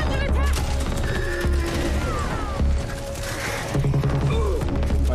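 Rapid bursts of gunfire ring out in a video game trailer, mixed with mechanical clanks, crashes and music, with loud and dense action throughout.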